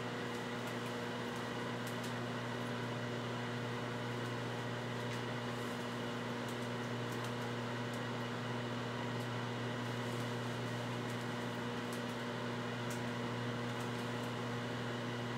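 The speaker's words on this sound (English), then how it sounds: "microwave for about 2 minutes on high" Microwave oven running on high while cooking potato chips, a steady, even mechanical hum with a fan whoosh, constant and close, with no voices.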